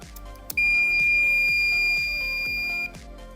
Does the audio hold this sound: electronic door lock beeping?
yes